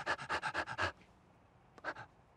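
A person imitates a dog's enthusiastic panting with a quick, even run of about eight breathy huffs, a short pause, then two more. The sound is close and alone.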